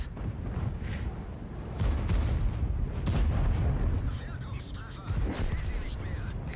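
Tank cannons fire during a tank video game battle in a town, with three heavy booms spread over a few seconds above a constant low rumble of engines and tracks.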